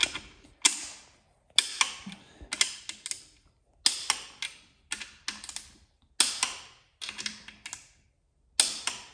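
Sharp repeated clicks of a torque wrench reaching its set point while engine main bolts are tightened to 65 pounds on a 6.0 LS V8 build, about a dozen crisp snaps in uneven pairs and bursts, close and clear with no talking.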